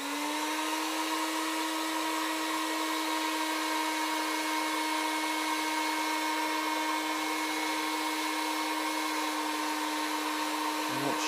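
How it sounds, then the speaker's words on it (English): Steady, loud electric whir of a heat gun warming EVA foam for a kids' Mandalorian helmet build, a constant airflow hum with a fixed tone that runs unbroken throughout, with no talking. "Using the heat gun now."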